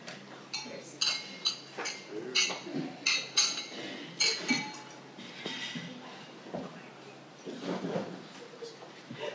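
Wedding guests clink glasses during a toast, with a scattered series of bright, light clinks over soft background chatter, busiest in the first half.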